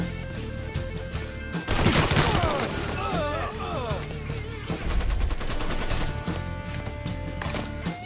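Rapid bursts of gunfire and heavier shots ring out in a Mafia III shootout, loud and close, with a surge of overlapping shots and faint voices in between.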